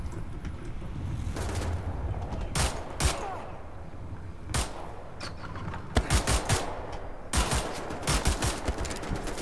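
Repeated bursts of machine gun fire in the shooter Wolfenstein: The New Order, short rattling volleys that come close and loud over a rumbling game backdrop, with a denser run of shots in the second half.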